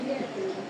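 A moulting 2023-hatched racing pigeon with a club leg ring gives a brief, low, soft coo close by, over a faint background hum.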